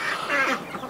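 White Campbell ducks calling in an outdoor zoo pen, a brief, close burst of nasal quacking and honk-like cries over a noisy backdrop, with no talking.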